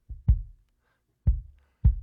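A kick drum recorded by a microphone outside the drum: four deep, boomy hits, a quick pair and then two spaced single thumps, each loud and close with a short low decay.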